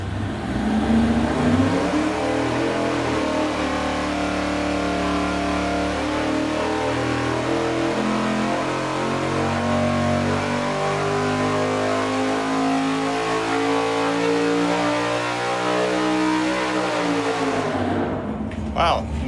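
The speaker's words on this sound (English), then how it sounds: "here we go with the long rod engine" A big block Chevy V8 with 6.800-inch long connecting rods revs hard on an engine dyno, a loud, steady roar whose pitch climbs for about eighteen seconds before the throttle snaps shut.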